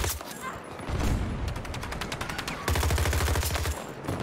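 An AI soldier fires rapid automatic bursts in the video game Battlefield 2042, with two close, loud strings of gunfire separated by a brief pause.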